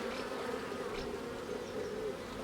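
Honeybees buzz in a steady, dense drone close by while a hive is opened and its frames inspected, a continuous hum with no pauses and no talk.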